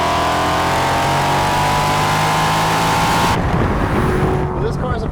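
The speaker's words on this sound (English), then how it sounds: "the S62 is one of BMW's greatest engines. It's one of my favorite V8s" A BMW Z8's 5-liter naturally aspirated S62 V8 engine roars steadily at high revs, then the tone shifts and drops as it changes gear, loud and close, with a voice speaking over it.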